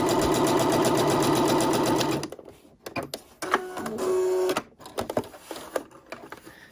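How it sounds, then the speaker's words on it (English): A Pfaff Passport 3.0 sewing machine stitches a seam with dual feed engaged, giving a loud, fast, steady mechanical whirr for about two seconds before it stops. Quieter handling noises and a short motor hum follow. "Now let's sew the same seam but with the dual feed engaged"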